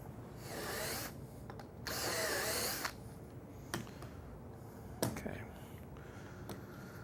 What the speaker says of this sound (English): I'm just going to repeat the drilling for the other side.